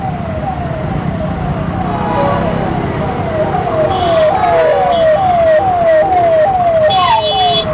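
An ambulance siren wails in repeated rising and falling sweeps, loud and close, in a jammed line of traffic on a village road. Engine and road noise sits underneath and grows busier toward the end.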